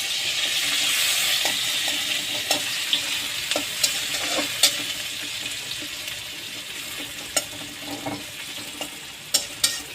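Fish and onions fry in a pan with a steady broadband sizzle, punctuated by scattered sharp clinks and scrapes of stirring, close and moderately loud with no talking.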